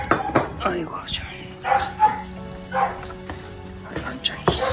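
A dog eating at feeding time, with light clinks of a bowl and small yips or whimpers under a woman's soft, continuous talk nearby.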